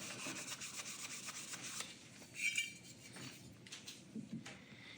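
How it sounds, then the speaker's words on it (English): Steady scrubbing and rubbing against a stainless steel Springfield gun magazine to lift corrosion after hurricane damage, a close, gritty, continuous abrasive scraping that swells briefly in the middle, with no talking. "the Springfield stainless mag seems to be cleaning up pretty good"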